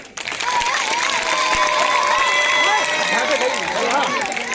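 Loud crowd clapping at an outdoor political rally in a village, sustained applause with shouting and chatter over it.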